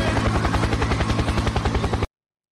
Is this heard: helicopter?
yes